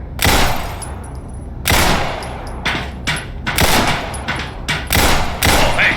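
Rapid bursts of submachine gun fire in the Black Mesa Hazard Course mod, loud and close, several sharp volleys separated by short pauses with no talk over them.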